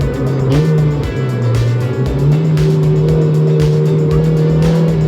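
Race cars launching into a drag race in a car racing video game, a loud sustained engine drone with rising revs and shifting pitch, continuous and close for several seconds.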